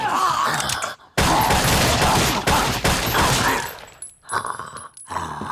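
Loud bursts of gunfire from silver bullets aimed at werewolves in a Supernatural episode, a dense sustained volley broken by a few short gaps, with scattered shots and noise after.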